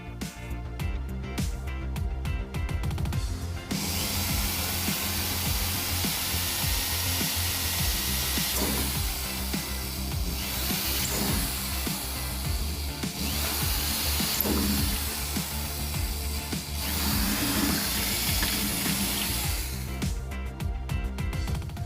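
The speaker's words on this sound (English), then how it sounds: "If you have a power drill, you could use it to make the holes." A power drill whirs steadily and loudly for a long stretch, boring holes in an acoustic guitar during a pickup install, its tone wavering slightly as it bites into material, with sharp clicks at start and end.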